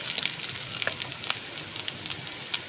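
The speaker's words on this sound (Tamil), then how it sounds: "கூடவே வெங்காயம், பூண்டு நல்லா கொஞ்சம் பொரியட்டும்" Finely chopped garlic and onion fry in a pan for variety rice, crackling with a steady moderate sizzle and scattered sharp pops close by.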